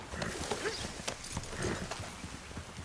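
Horse hooves clip-clop in a brisk, steady rhythm, close and fairly loud, with a faint voice in the background.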